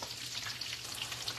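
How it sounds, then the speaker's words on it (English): Shrimp egg foo young patties fry in vegetable oil with a steady, dense crackling sizzle, close and even throughout, with no voices. "No, Myra, I'm using vegetable oil."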